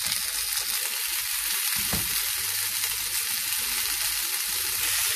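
Seekh kebabs sizzling as they cook, a loud, steady broadband crackle and hiss that stays constant throughout, with a single soft knock partway through and no talking.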